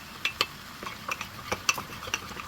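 Squid with radish, gochujang and chili flakes is stir-fried in a pan, with irregular clinks and scrapes of a utensil against the pan over a low sizzle.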